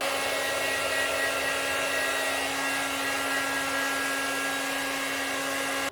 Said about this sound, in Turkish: Şimdi saçlarımı bir kurutmak istiyorum.